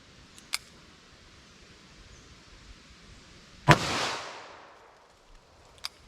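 A single sharp, loud .38 Special +P 158-grain lead semi-wadcutter hollow-point shot from a 3-inch-barrel revolver cracks out close by and rings off over about a second, with faint small clicks before and after.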